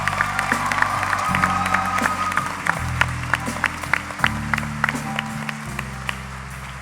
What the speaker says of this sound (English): please give another round of applause to Afyah Giuliani.